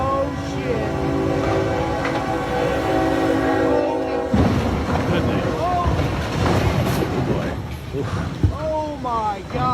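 A freight train striking a large tanker truck at a railroad crossing, heard as a steady horn-laden train rumble that breaks into a loud, chaotic crash with clattering debris, while excited voices talk over it.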